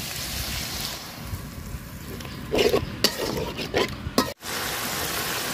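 Spoon strokes stir a fish and sponge-gourd curry in a pan just after water goes in, a steady hissing bubble under a handful of clustered scrapes and knocks, then a short break before the hiss resumes.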